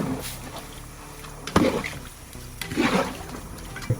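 Rice boiling in water in a pot for mutton biryani, giving a soft, uneven watery bubbling and sloshing with a few louder splashy bursts, close by and with no voices.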